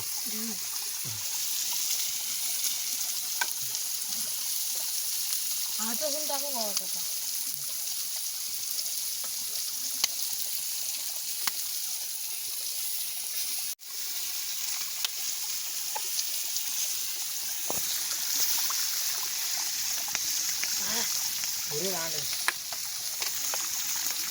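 Chicken kaul fry sizzling in a pan over an outdoor fire beside a Konkan stream, a quiet steady hiss with trickling water and occasional stirring, and faint voices now and then.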